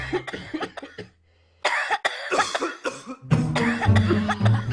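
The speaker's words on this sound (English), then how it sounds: "Are they still coughing?" Several sharp coughs come in quick bursts, with a short quiet gap, then a run of harsh, repeated coughing fairly close and loud.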